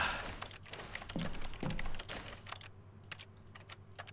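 Rapid keyboard typing sounds in the video game The Stanley Parable, a fast, close stream of key clicks that thins into sparser, separate taps near the end.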